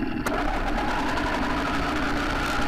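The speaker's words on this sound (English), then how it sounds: "as it is moved, you can hear the engine changing in idle." Hydrogen-powered 80cc two-stroke bicycle engine idles close by with a fast, buzzing, even rattle that stays loud and steady throughout, with no talking.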